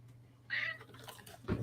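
A house cat meows close by, a clear meow followed by a couple of shorter softer vocal sounds against a quiet indoor hum.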